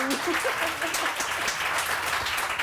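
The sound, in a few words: studio audience clapping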